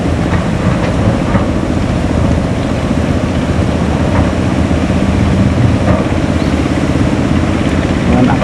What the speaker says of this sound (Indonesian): Mesin hammer terlihat dinaikkan.